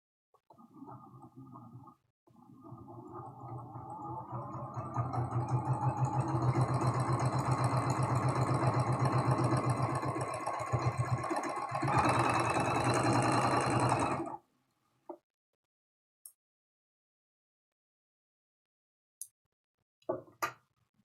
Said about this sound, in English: we're going to sew right next to the paper edge